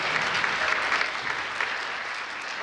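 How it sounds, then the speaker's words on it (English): A crowd at a friendship class talent show applauds a puppet act, a steady wash of many hands clapping at moderate volume, fairly close and continuous throughout, with no talking over it. "Let's give Janet another big round of applause"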